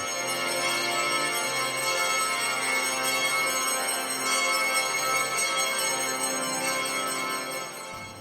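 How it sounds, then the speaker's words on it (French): Church bells ring at the Easter vigil in the Holy Sepulchre basilica, a dense, reverberant wash of overlapping peals sustained for several seconds at moderate, somewhat distant loudness. "Les cloches et le chant du Gloria ont marqué l'annonce."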